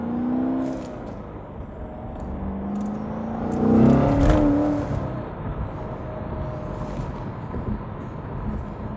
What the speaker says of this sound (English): So we'll just demonstrate the rev match here a little bit more though.